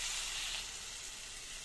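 Tamarind water is poured into bitter gourd frying with tomato in a pan, setting off a loud, close sizzling hiss that surges at first and then settles into a steady fry.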